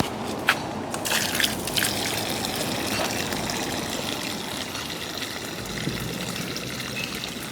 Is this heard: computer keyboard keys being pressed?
no